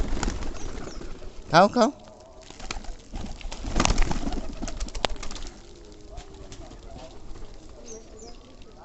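Pigeons coo and flutter at a pigeon farm, a low murmuring chorus close by while a person calls out to the birds over it.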